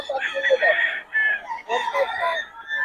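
A bullstag rooster at a busy poultry market crows in drawn-out, strained calls, repeating several times close by with short gaps between them.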